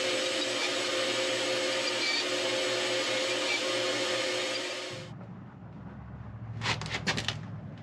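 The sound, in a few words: bandsaw cutting walnut plaque tabs loose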